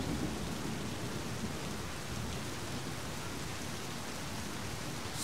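Steady rain with rolling thunder in the game My Summer Car, a dense continuous hiss of falling rain over a low rumble that persists for several seconds, with no one speaking.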